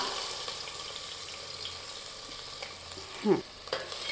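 Onion sautéing in a pan with cloves, cardamom, star anise and pepper for prawn biryani, a soft steady sizzle with a few louder stirring scrapes near the end.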